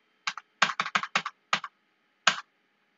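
Computer keyboard keys tapped in quick bursts while entering data in Marg ERP software, a cluster of crisp clicks then two isolated presses, close and clear in a quiet room.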